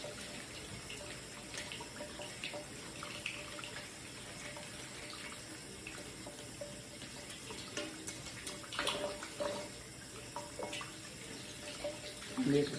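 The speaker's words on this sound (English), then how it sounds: "And this is hot water running on." Hot water runs from a kitchen tap over peeled boiled eggs, a faint steady splashing stream with occasional louder splatters and a few drips.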